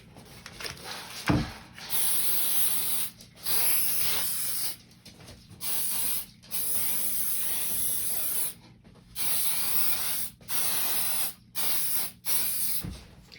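Hairspray aerosol sprayed over a thrift-store picture frame for a thick coat, heard as a series of close hissing bursts of varying length separated by short pauses, with a couple of clicks from the can.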